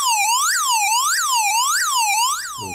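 Digital siren tone synthesized by an ATtiny85 microcontroller at 8 MHz, sweeping up and down in a steady wailing cycle about every 0.6 seconds, loud and clear with no talking.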